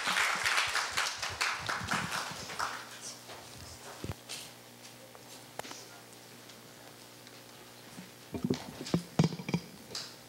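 An audience at a school speech contest claps, starting with a burst of dense clapping that thins into scattered individual claps, then picks up again briefly near the end.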